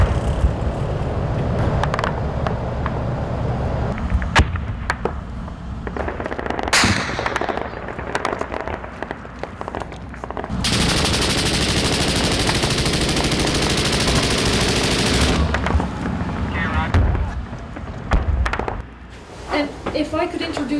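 Gunfire at an isolated Afghan checkpoint manned by Afghan and Canadian soldiers during counter-insurgency operations. Bursts of automatic fire and single shots crack out over a noisy background, with a long harsh stretch of sustained noise in the middle, and voices are heard at times.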